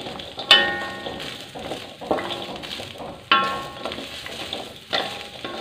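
Spices for soto being stir-fried in a pan until browned, giving a steady sizzle with several sharp clattering scrapes of a utensil against the metal at irregular intervals, close and fairly loud, with no voices.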